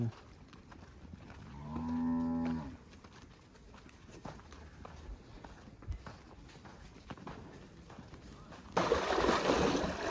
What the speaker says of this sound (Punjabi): ਕੱਢ ਲਈਆਂ ਮੱਝਾਂ